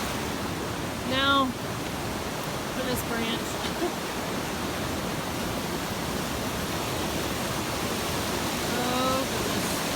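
Swift but shallow stream water rushes steadily as hikers ford a river on the Pacific Crest Trail near Forester Pass, a constant broadband roar filling the whole clip, with brief bird chirps and a short spoken phrase over it.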